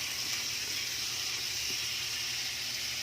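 Steady, close sizzling hiss of fish frying in hot oil in a pan, continuous and fairly loud throughout with no voices.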